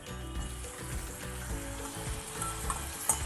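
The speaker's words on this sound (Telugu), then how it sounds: "ఇది మెత్తగా మగ్గే వరకు వేయించుకోవాలి" Chopped onions and tomatoes frying in a pan, a soft steady sizzle with faint scraping and low clatter from stirring, fairly quiet and close, no speech.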